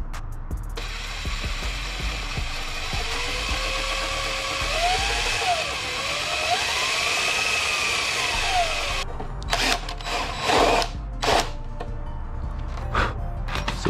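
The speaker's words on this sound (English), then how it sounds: "So we're about to drill it right now with the little step" A step drill bit bores a hole through a carbon fiber front splitter on a Dodge Charger Scat Pack widebody, a steady close whine with rising pitch sweeps, then several short separate bursts near the end.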